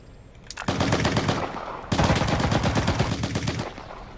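Automatic gunfire in the video game Cuisine Royale, likely a Thompson: two long, loud, rapid bursts of shots separated by a short pause, close and dominant.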